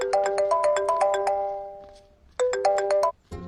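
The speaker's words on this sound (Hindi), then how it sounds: "भैया आपको किसी का फोन आ रहा है" A phone ringtone for an incoming call plays loudly and close: a bright repeating melodic chime pattern that pauses briefly, then starts again.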